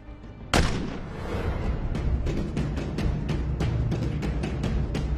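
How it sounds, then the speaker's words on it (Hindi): A sudden loud gunshot bursts out, followed by a dense, rapid rattle of further firing that continues at a steady level to the end, with no voices heard. "ये फायर किसने की है?"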